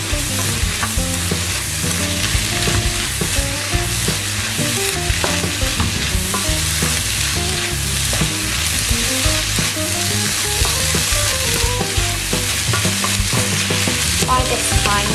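Garlic sizzles loudly and steadily in a hot frying pan for lasagne while a utensil stirs it with continuous scraping, close and busy, with background music and no talking.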